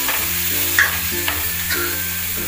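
Onions and chopped tomatoes sauté in a pan for a Kabul chana curry, a steady loud sizzle with short scraping stirs at intervals, no voices.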